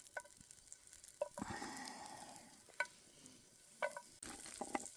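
Garlic sizzles in butter in a big frying pan over an outdoor fire pit in a train tunnel, a quiet steady frying hiss broken by sharp clinks and scrapes of stirring.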